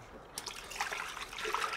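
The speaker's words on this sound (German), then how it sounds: "Erstmal noch Wasser auffüllen." Water trickling and splashing as it is poured into a vase for arranging tulips, a close, steady liquid stream starting after a brief quiet moment and rising slightly in level.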